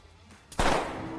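A single sharp gunshot in a film cracks loud and close after a short quiet lead-in, then leaves a lingering noisy tail.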